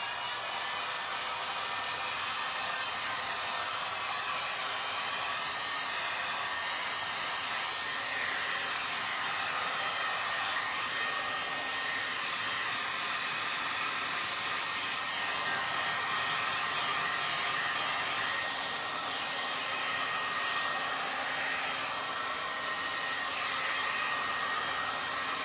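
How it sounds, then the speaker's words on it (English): Heat gun blowing steadily to dry paint on a thrifted rooster figure, a constant loud airy roar of fan and hot air that runs unbroken from start to finish, with no one talking. "I'm gonna just hit this quickly with the heat gun, just to get that dry so I can do my second coat"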